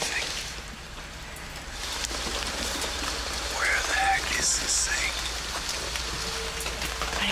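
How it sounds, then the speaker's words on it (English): Steady rain falls outside a cave on a Himalayan expedition, a constant dense hiss of drops, with faint murmured voices underneath. "we got a lot of rain coming in"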